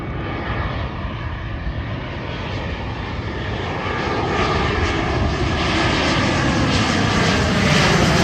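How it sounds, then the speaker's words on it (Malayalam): A passenger airplane landing at Kannur International Airport roars overhead, a broad steady engine rumble that swells gradually louder as it passes near. "ഫ്ലൈറ്റൊക്കെ ഇങ്ങനെ ലാൻഡ് ആയിക്കൊണ്ടുണ്ട് മുകളിൽ നമുക്ക് കാണാം"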